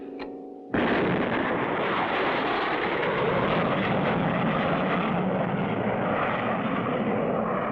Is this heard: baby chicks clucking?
no